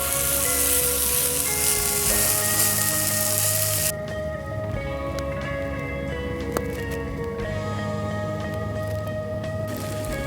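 Pickled cucumbers sizzling loudly in hot oil in a pan, a steady bright crackle that drops to a softer, quieter fry partway through as the pieces settle.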